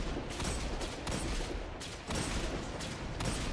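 Gunfire in the video game Destiny 2 comes as bursts of rapid shots that repeat with brief gaps between them, loud and dense, with no talking.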